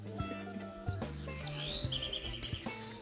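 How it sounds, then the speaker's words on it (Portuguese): Birds chirp and call in the morning on a small farm in Marechal Floriano, Brazil, with several tweets and trills scattered over a quiet background, some nearer and some farther off. "Os pássaros, o pessoal dando um bom dia pra gente."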